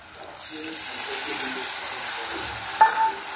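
Chilli chicken gravy in a hot pan bursts into a loud, steady sizzle and hiss as water is poured in, holding continuously close up, with a brief sharper spatter near the end.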